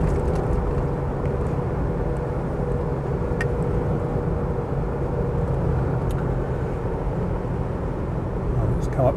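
A 2.8 TDI long-wheelbase automatic Mitsubishi Pajero drives along with a steady, loud diesel drone and road rumble heard from inside the cabin, with no breaks.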